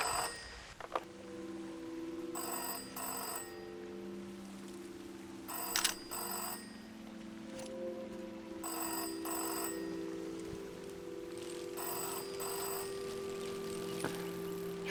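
A telephone rings in the video game Season: A Letter to the Future, with repeated paired bursts of electronic trilling at a steady rhythm over a low ambient hum, moderately loud and with no voices.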